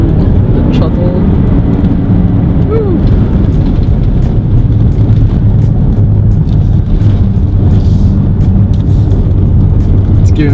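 A BMW X5 xDrive45e plug-in hybrid SUV of almost 400 hp accelerates hard at full throttle, heard from inside the cabin as a loud, steady low engine and road rumble that builds continuously for about ten seconds.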